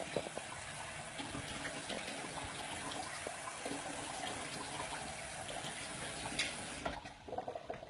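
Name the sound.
water being poured into a bowl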